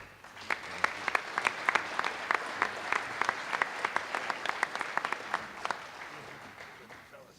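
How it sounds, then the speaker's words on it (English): A crowd at a police awards ceremony claps steadily with sharp, distinct individual claps, the applause thinning out toward the end. "Let's give them another round of applause for that courage."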